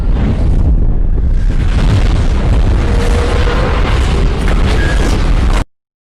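A loud, sustained roaring bomb blast in the 2007 film Next fills the clip with dense low rumble and debris-like crackle, then cuts off abruptly into silence.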